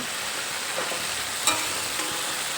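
Spices stir-fry in a pan for a Bengali fish curry with cauliflower and potato, a steady soft sizzle with faint scrapes of stirring and one brief clink, no voices.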